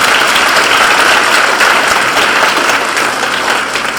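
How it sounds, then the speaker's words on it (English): Loud, dense applause from a high school honor roll assembly audience for the JROTC, sustained clapping that tapers slightly toward the end. "If we could give them another round of applause."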